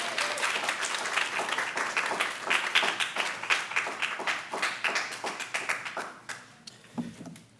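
Audience clapping and applause at a poetry reading anniversary event as the Free Library president is welcomed, a dense, lively burst of many hands that gradually thins and fades out.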